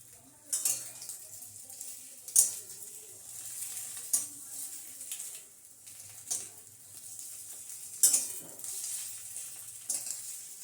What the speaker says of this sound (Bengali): এই যে ডিম রোস্ট করছি